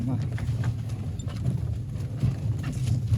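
Steady hoof clip-clop from a mare walking, a regular rhythmic patter at moderate distance with people talking over it.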